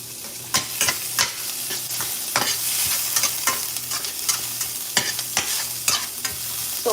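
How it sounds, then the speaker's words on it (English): Onions and peppers sauté in a hot pan, sizzling steadily while a utensil stirs and scrapes them in frequent clacking strokes, close and fairly loud. "I love when my onions are really sauteed and my peppers"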